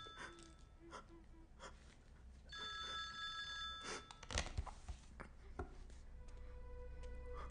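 A telephone rings in a tense indoor film scene, its repeated tones coming in short bursts amid gasps and heavy breathing, fairly quiet overall.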